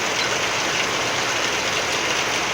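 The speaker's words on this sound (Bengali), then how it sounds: "বৃষ্টি হচ্ছে" Heavy rain falls during a thunderstorm as a loud, unbroken wash of noise, close and constant with no voices.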